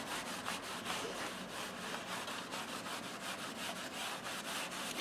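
Steady cloth rubbing and buffing over a wooden surface while beeswax polish is worked in, a continuous close scrubbing texture with a rhythmic back-and-forth pulse, no talking.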